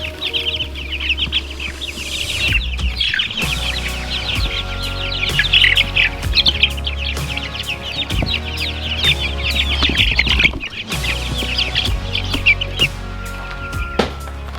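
Young broiler chicks about three to four weeks old, kept on pine shavings, cluck and chirp continuously as a busy flock, with dense overlapping peeps and a steady low hum underneath.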